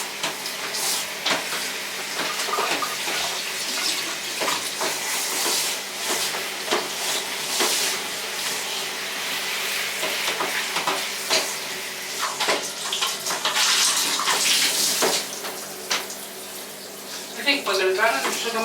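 A cleaning rag is rinsed under running water during late-night cleaning, with continuous splashing and trickling broken by repeated wet sloshes. Voices talk faintly beneath it.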